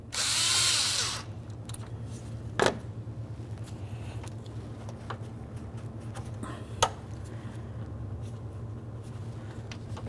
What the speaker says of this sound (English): We'll loosen this clamp just enough that we can remove the hose from the radiator.